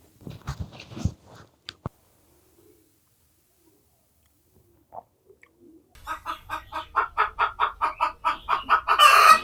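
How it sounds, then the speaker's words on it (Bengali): Hen in a riverside char village in Kurigram, Bangladesh, cackling loudly after laying an egg: a steady run of sharp, rhythmic clucks that grows stronger near the end, after a quiet stretch with a few scattered thumps and clucks. "মুরগিতে ডিম পারছে এই জন্য শব্দ করতেছে"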